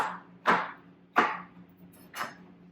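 Knife chopping zucchini into chunky half moons on a cutting board, three distinct crisp cuts at an unhurried pace, close and fairly quiet against a low background hum.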